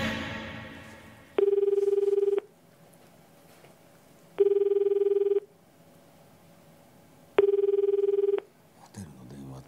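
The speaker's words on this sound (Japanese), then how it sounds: "次に期待し、一行は2人目のチャレンジャーに電話。" A hotel telephone rings in three separate bursts, each about a second long, evenly spaced with quiet gaps between them, clear and close.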